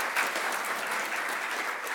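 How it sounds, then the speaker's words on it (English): Audience at a keynote talk applauding the speaker, many hands clapping in a steady, even burst that holds at moderate volume from start to finish. "So I would like us all to give a very warm welcome and an applause for Patrick being here"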